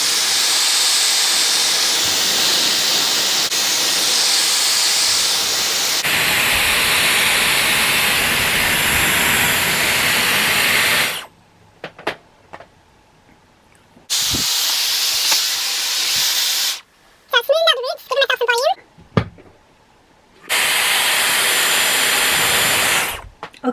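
A Dyson Airwrap Complete hair styler blows air in a loud, steady whooshing rush, cutting off abruptly several times and restarting, with quiet gaps and brief handling noises between bursts.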